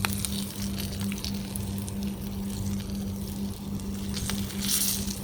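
Water running out steadily beside an outdoor cooking spot, a continuous hiss and patter with a low steady hum, fairly close and uninterrupted.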